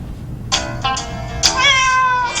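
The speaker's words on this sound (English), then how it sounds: "Your kitty cat says someone is trying to call you." Cat meowing close by, several distinct meows in quick succession, the last one longer and drawn out, alone and clear with no talking.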